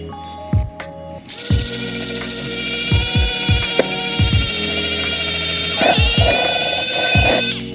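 A Wowstick electric pen drill boring into double-walled cardboard, a high steady whine from a small motor with scraping and knocking of handling, close and continuous after it switches on.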